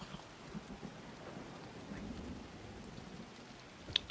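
Rain falls in the survival video game GORD, a soft, even wash of patter with a low rumble of thunder underneath and a sharp tick near the end.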